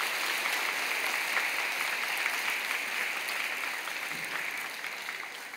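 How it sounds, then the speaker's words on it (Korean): A church congregation applauds to welcome a newly arrived pastor, a broad sustained roll of many hands clapping together that holds steady and eases slightly toward the end. "여러분 크게 박수로 환영하십시오."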